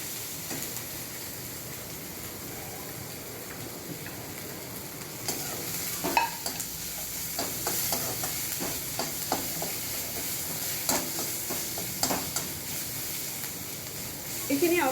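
Onions, green chillies and spices fry in oil in a pan for fish head rice, a steady sizzle with occasional stirring scrapes and clinks from the utensil, close and continuous.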